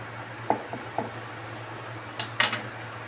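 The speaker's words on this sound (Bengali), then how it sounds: "তো এরপর আমি ছুরি দিয়ে আবারও এভাবে লম্বা করে আমি কেটে নিলাম।" A knife cutting through a set milk and semolina sweet in a dish, a handful of short clinks and taps against the tray, spaced unevenly, close and fairly quiet with no talk.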